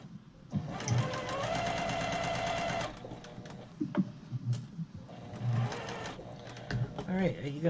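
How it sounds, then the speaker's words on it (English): Sewing machine stitches quilt pieces in quick mechanical bursts, running steadily for a few seconds and then in short stop-start runs, close up, with a person talking intermittently over it. "we will turn all these around and sew up the other side"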